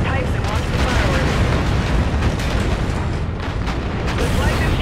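A tower detonation in Call of Duty: Infinite Warfare sets off a loud, sustained rumbling explosion with crackling bursts that fill the whole stretch.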